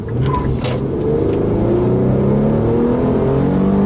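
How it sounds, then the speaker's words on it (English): An Infiniti Q50 V6 sedan engine revs hard, its loud, close roar climbing steadily in pitch as it winds up toward the upper range, with no talking over it. "And let me just hit it here."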